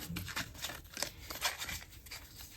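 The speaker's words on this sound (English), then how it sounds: "I'm just going to shuffle these up just a little." Board game cards being shuffled up close, a run of soft riffling flicks and papery slides in quick irregular bursts for a few seconds, with no voices.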